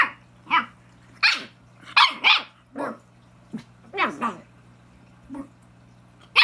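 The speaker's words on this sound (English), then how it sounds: "The puppy is talking to you." A puppy barks and growls in short, separate yips and snarls, about a dozen close, sharp bursts spread unevenly with quiet gaps between them.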